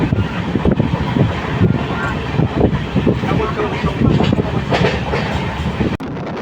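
Howrah Balurghat Express running at 90 km/h, heard from on board as a loud continuous rumble with rhythmic clickety-clack of wheels over rail joints, a sharp break near the end.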